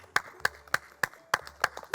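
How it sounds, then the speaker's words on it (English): A small group claps for Santa Claus at a Christmas lights story night, about seven sharp, widely spaced claps in a slow, uneven rhythm, close and fairly loud with no talking. "Give Santa Claus a clap."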